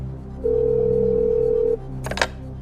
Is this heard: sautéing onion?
no